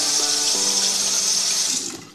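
Water runs from a tap in a short, strong, close splash with a steady gushing hiss that tails off as it is shut.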